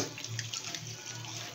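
Half a cup of water boils in a pot for Bhutanese ima datshi: a steady, close rushing bubble that holds level and unbroken for the whole stretch, with no voices.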